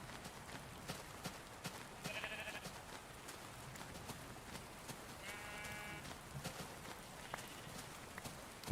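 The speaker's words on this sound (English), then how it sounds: "Some sheeps. I guess let's go that way. Sheeps!" Sheep bleating in the Minecraft game world, two short bleats a few seconds apart heard over a steady bed of ambient game noise and clicking footsteps.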